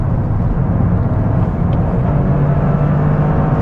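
2023 Toyota GR Corolla Morizo engine pulling hard in third gear, a loud, steady in-cabin rumble and drone with rising tone, heard close throughout.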